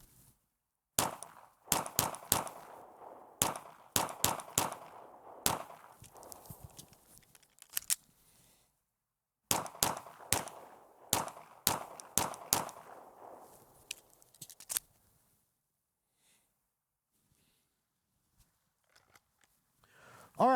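Pistol shots fired in fast strings during a timed shooting drill at close range: sharp, loud reports in rapid bursts with short pauses, two groups of roughly eight shots each, followed by quiet.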